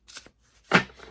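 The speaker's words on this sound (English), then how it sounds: "I've already pre-shuffled the cards and cut them, but let's do a quick cut here" A deck of tarot cards being cut by hand: a soft riffle, then a sharper, louder card slap close by, with no talking.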